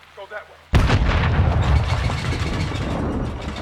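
A bomb blast in the video game Call of Duty Modern Warfare II: a single sudden loud boom after a quiet moment, followed by a long rumbling, crackling roar that trails on.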